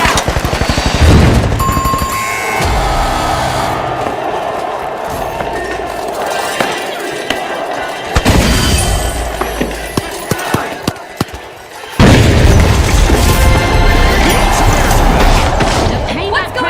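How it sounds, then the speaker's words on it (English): A gas grenade bursts in a video game with heavy booms and a crashing rush of noise, followed by shorter impacts, clinks and game effects, while a voice speaks over the chaotic mix. "Gas grenade out."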